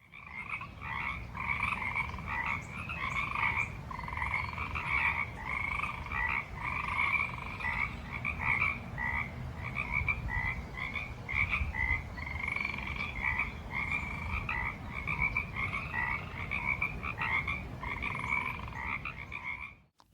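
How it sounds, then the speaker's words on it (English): Many frogs croaking at a lake, a dense, steady chorus of rapid rhythmic calls repeating throughout, moderately near and continuous with no voices. "Here's a bunch of frogs relaxing at the lake."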